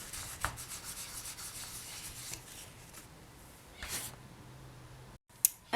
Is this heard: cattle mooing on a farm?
no